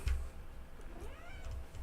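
A house cat gives a single soft meow, faint and slightly distant, over a low background rumble.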